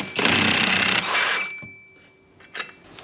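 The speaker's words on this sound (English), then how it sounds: "Our size 22 impact. We'll throw it on here" An impact wrench with a 22 mm socket hammers for about a second on the primary clutch bolt of a Gen 3 Can-Am Outlander, loud and close, followed by a shorter burst and a few metallic clinks.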